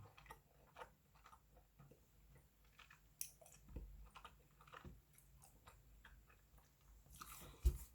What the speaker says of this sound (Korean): 씹는데 아까 판형이 커서 그런지 씹는데 훨씬 시간이 많이 들어요.